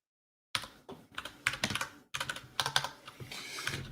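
Keys clack on a mechanical computer keyboard in close, irregular bursts of typing after a brief silence, the crisp clicks coming in quick clusters with short pauses and no talking.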